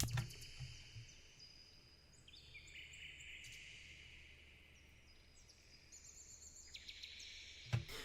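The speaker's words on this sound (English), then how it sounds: "we have ambience loop here. It's kind of like birds chirping" Faint, high bird chirps and sweeping whistles drift over a soft, hissy outdoor background, with no voices.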